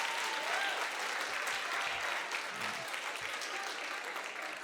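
An audience at a student leadership conference claps steadily, a dense, even patter of applause that holds at a moderate level throughout without cheering.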